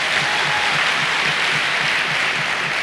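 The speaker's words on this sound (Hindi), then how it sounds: "एक बार जोरदार ताली आप लोगों के लिए" An audience at a motivational business seminar claps in a dense, continuous burst of applause that stays steady and fairly loud throughout.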